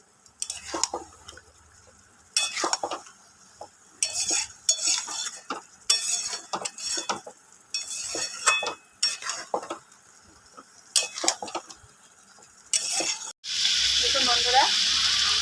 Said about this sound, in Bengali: দিয়ে দেবো একসাথে এটাকে কষিয়ে নেবো